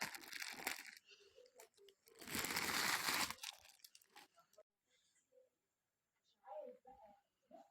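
Plastic bag crinkling close up while a large singing, light-up Bella doll is unwrapped, loud bursts of rustling and crunching between stretches of someone talking.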